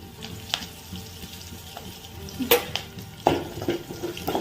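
Mustard seeds and cumin fry in a new pan at home, with soft crackling and a few sharp pops and clinks rising over a low steady sizzle, fairly close and quiet, no voices.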